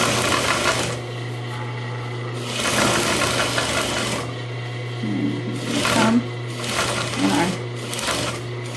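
A sewing machine stitches a zipper into a pillow with piping in loud, close bursts of rapid mechanical whirring, separated by short pauses and over a low steady hum.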